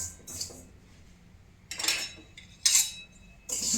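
Sesame seeds roast in a metal kadai while a spoon stirs them, making three or four bright metallic scrapes and clinks against the pan with quiet pauses between, close by and fairly loud.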